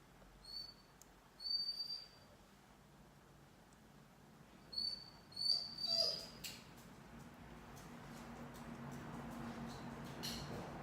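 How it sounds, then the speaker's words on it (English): Indoors, a dog whimpers in short, thin, high-pitched whines: two near the start and three more around the middle, fairly faint, followed by a steady low background hiss. "Please take the dog with you."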